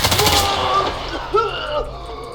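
Gunfire in the Roblox video game comes as a quick burst of sharp shots, then a couple more cracks a moment later. The shots sound close and loud over the game's background.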